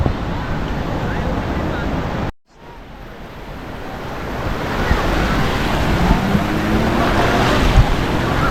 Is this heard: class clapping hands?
no